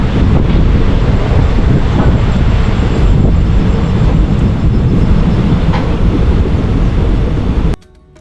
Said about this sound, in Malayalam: നമ്മുടെ ട്രെയിൻ ഇതാ വളഞ്ഞ് പൊയ്ക്കൊണ്ടിരിക്കുകയാണ് നമ്മുടെ പാലക്കാട് ടൗൺ ഭാഗത്തേക്ക്.